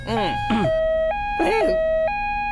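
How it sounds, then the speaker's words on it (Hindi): A radio inside a train in a dubbed horror comedy film gives off a looping electronic siren. The tone steps between two steady pitches while voices talk over it loudly. "एफएम रेडियो में आग लग गई है, इसलिए सायरन की आवाज सुनाई दे रही है"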